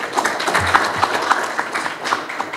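An audience at a football club's bid announcement event gives a short burst of scattered clapping, moderately close, with a faint murmur of voices underneath.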